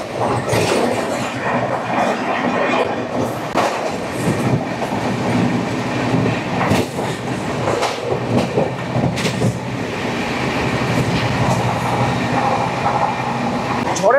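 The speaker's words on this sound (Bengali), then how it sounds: "ঝড়ের গতি নিয়ে পূর্ব এক্সপ্রেস পার করে এলো শক্তিগড় স্টেশন" The Poorva Express races through Shaktigarh station at high speed, a loud continuous rush of wheels with rhythmic clickety-clack beats and sharp rattling bursts throughout.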